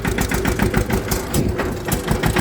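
A farm tractor engine idles close by in a Gujarati village, a steady rapid chugging rhythm with a constant low throb and no talking.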